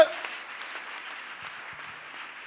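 A church congregation applauds in a steady patter of many hands, fairly faint and even, after a brief raised voice at the start.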